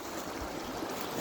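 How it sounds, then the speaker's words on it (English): Small creek running at a trail water crossing on the Ozark Highlands Trail, a steady broadband rush of flowing water heard close by and continuous, with no talk over it. "Really pretty little creek down in here."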